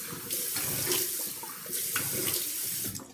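Hot water runs steadily from a tap into a sink while shaving, a continuous close splashing rush that surges and eases slightly over a few seconds, with no voices.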